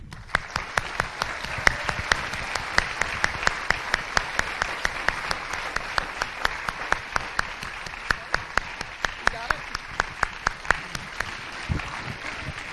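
An audience at the Viennale 2023 Amadeus gala in Vienna's Gartenbaukino applauds to welcome a speaker onto the stage, with sustained clapping and a few louder individual claps standing out throughout.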